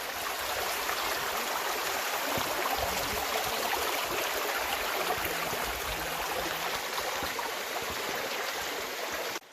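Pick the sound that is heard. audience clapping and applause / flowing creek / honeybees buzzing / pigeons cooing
flowing creek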